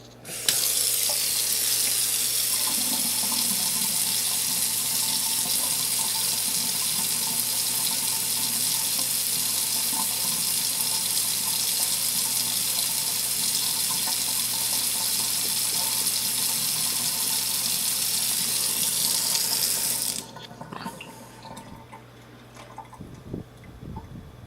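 A household faucet runs steadily in a hiss of flowing water for about twenty seconds during a home leak test, then shuts off, leaving a quieter room with small clatters.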